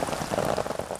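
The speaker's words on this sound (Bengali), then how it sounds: "কখনো ঝিরিঝিরি কখনো আবার মুষলধারে বৃষ্টি হচ্ছে সিলেট বিভাগ জুড়ে" Heavy monsoon rain across the Sylhet division pours down steadily, a dense, close patter of drops drumming on surfaces with no voices.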